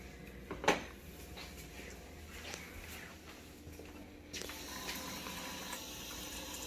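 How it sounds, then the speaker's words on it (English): Tap water running over eggs being peeled at a sink: a quiet rushing flow with a brief clack early on, growing a little louder and steadier toward the end, no talking. "Let's go do this under running water"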